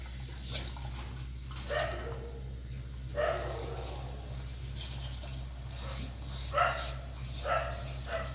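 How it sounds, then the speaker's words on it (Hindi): Dog barks and yips come and go in the background over a steady low hum, with occasional jangling. "आपको बैकग्राउंड में कुत्ते की भौंकने की आवाज़ आ रही होगी"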